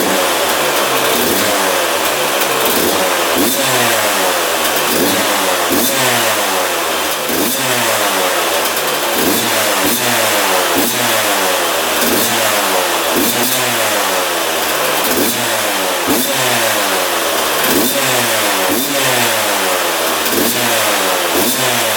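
A 20-year-old dirt bike engine runs loud and close for a long stretch, pulsing with a steady, rough rhythm and repeated rises in revs, with no voices over it.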